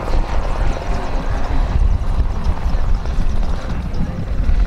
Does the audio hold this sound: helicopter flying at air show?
yes